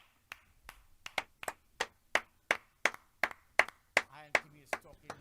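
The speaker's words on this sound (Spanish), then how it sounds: "Hermano Vlad, podemos darle a nuestro amado siervo de Dios un aplauso de aprecio." A small church congregation gives a round of applause: sparse, distinct hand claps at a steady rhythm, fairly close, with a brief spoken word near the end.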